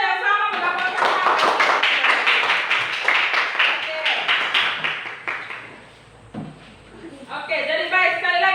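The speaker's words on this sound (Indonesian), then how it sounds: "tepuk tangan untuk semua yang sama mendapatkan hak" A classroom full of students claps together in a burst of applause under a teacher's voice, then fades to a short lull before voices pick up again.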